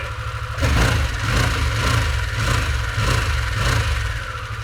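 A Harley-Davidson Sportster S motorcycle engine runs close by with a deep, steady rumble, rising briefly in a blip of throttle near the start and then settling into an even, slightly muted idle; no one talks.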